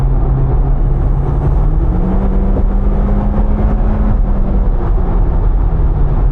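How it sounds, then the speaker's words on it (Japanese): Mitsubishi Lancer Evolution X (CZ4A), 280 horsepower, pulling hard from already high speed, a steady loud engine drone with a slowly rising pitch and wind and road roar inside the cabin, no voices. "高速域からでもしっかり加速しますね"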